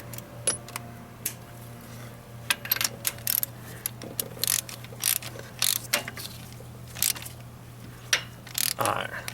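A sleeve removal tool tightened with a 3/4-inch wrench on a 7.3 Power Stroke diesel with fuel in the coolant, giving close sharp metallic ratchet clicks and clanks in irregular bursts over a steady low hum.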